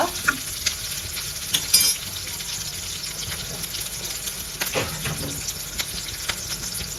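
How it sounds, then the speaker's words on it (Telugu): Curry leaves frying in oil in a pan, a continuous bright sizzle with a few scattered stirring knocks and scrapes and no talking. "ఇంకా ఈ కరివేపాకు ఇవన్నీ అయితే బాగా వేగల"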